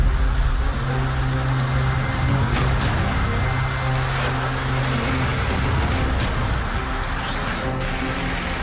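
Heavy September rain pours down in a dense, loud, continuous hiss of drops on surfaces with a low watery rumble underneath, and no voices.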